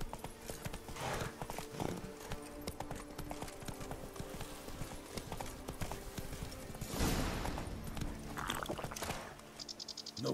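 Roach, the horse in The Witcher 3, trots with a steady clip-clop of hooves, close and fairly quiet, under a few soft game sounds and no voices.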